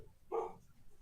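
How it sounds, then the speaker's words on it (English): A single dog bark, short and moderately loud, rising out of a quiet room during a small party gathering. "Here's the dog."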